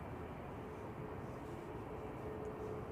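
A TUI airliner arriving at Manchester Airport from Agadir makes a continuous low engine rumble, steady and fairly distant throughout the short stretch, with no voices.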